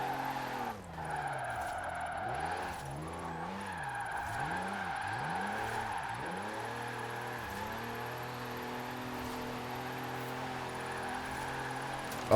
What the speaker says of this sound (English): I'm just flooring it right now.